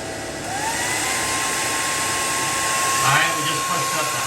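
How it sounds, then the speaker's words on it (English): A hair dryer on its low setting, powered by a pure sine wave inverter, hums in a continuous steady whir, close by, with a faint tonal whine running throughout. "Now we're gonna turn on the low setting on the hair dryer."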